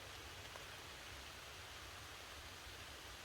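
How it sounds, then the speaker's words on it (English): Steady rain falls through a forest, making a dense, even hiss that holds constant throughout with no voices or other sounds. "I can hear that rain coming down again"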